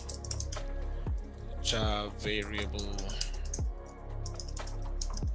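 Clicky computer keyboard typing, steady bursts of keystrokes close up while someone talks over it, writing C# code.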